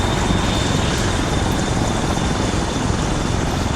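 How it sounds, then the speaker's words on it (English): A helicopter flies in the Arma 3 military video game, its rotor and engine making a loud, continuous, close drone that stays steady throughout with no voices over it. "Yeah, the helicopter is taking fire."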